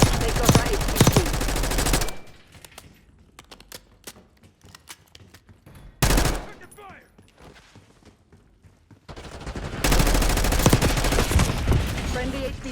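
Call of Duty: Black Ops 6 gunfire, loud rapid automatic bursts at the start and end with quieter scattered shots and distant clatter between, with game voices mixed in.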